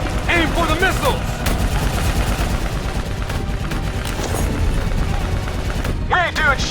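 Dense gunfire from a Call of Duty Black Ops 3 battle against an APC and a VTOL, loud continuous automatic bursts and heavy booms, with shouted voices breaking through over the combat.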